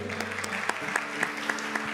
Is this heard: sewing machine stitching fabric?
no